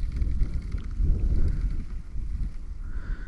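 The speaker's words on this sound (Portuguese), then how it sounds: "só pra vocês verem que tá ventando" Wind gusting over open water on a blustery fishing day during baitcasting reel tests, a steady low rumbling roar of air buffeting the microphone with no talking.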